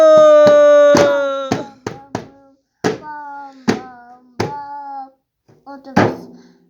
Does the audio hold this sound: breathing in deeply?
no